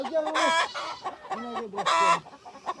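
Two bursts of close chicken clucking and squawking, loud and agitated, with softer low clucks in between.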